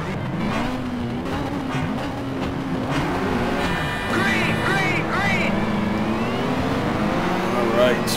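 Race cars including a Skyline and an Evo in Need for Speed Shift 2 Unleashed, engines droning and whining up and down through the gears, steady and close, with a voice talking over them.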